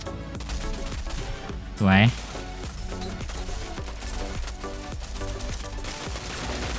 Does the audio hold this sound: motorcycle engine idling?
no